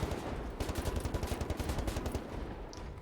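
Rapid automatic gunfire in Wolfenstein: The New Order, a fast burst of closely spaced, punchy shots, loud and continuous for a few seconds before tailing off, with no voices over it.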